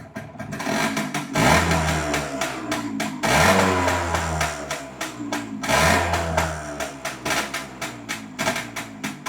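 An MZ ETZ125 motorcycle engine revs up and falls back in repeated loud surges, running close by without any voices.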